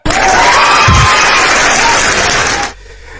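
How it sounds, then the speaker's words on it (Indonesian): Audience applause at a public discussion, a loud, dense burst of clapping and crowd noise that holds for over two seconds and then cuts off abruptly into quiet. "tepuk tangan"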